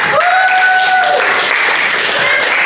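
A primary school class claps the rhythmic 'tepuk seni budaya' chant together in a classroom, producing dense, loud, continuous applause-like clapping with a voice carrying tones over it.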